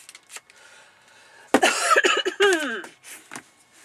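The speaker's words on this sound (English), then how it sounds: "It's getting colder. I'm getting coughs." A woman coughs a few times, sharp and close, with a brief throat clear and short vocal noises in between, against a quiet room.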